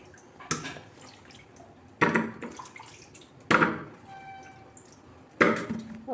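Sweet corn is washed in water with four sharp splashes at uneven intervals, each fading into dripping and trickling, heard up close in a quiet kitchen.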